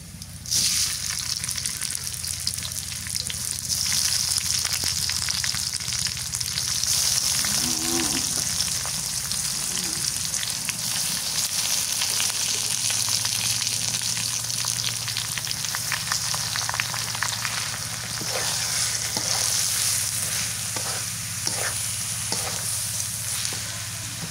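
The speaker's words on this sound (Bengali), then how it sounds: "পেঁয়াজটা ভাজা হয়ে গেছে, এবার চাউল দিয়ে দিই" Rice frying with fried onions in a pot for beef pulao gives a steady, loud, hissing sizzle with occasional stirring scrapes, heard close and without talk.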